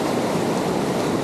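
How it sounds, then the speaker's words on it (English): River rapids of white water rushing over rocks, giving a steady, loud broadband roar for a short moment with no one talking. "That's quite a safe rapid through there."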